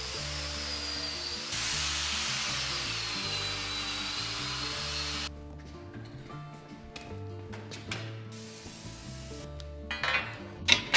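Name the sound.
wire wheel cleaning a power hammer treadle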